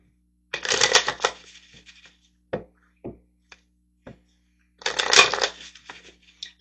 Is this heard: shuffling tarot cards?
yes